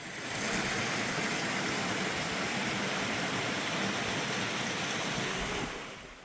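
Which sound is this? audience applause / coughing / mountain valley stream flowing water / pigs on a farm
mountain valley stream flowing water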